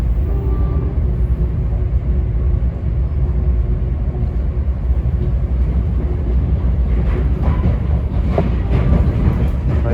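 An NJ Transit train on the Gladstone Branch rumbles steadily and loudly into Murray Hill station, a continuous heavy low roar with wheel and rail noise building slightly toward the end.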